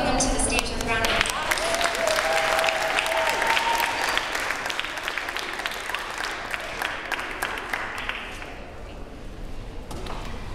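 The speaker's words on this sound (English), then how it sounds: "could we please welcome them to the stage with a round of applause?" Audience applause welcoming elementary school performers at a school arts festival, steady and full for about eight seconds before fading away, with voices and cheers mixed into the clapping.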